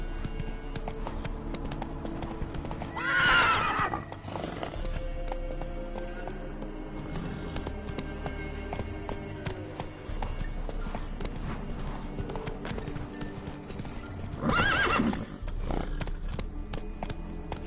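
Hooves clip-clop steadily throughout as a horse gallops in the video game The Witcher 3, with two loud, bright whinnies near the start and near the end over a constant background of game ambience.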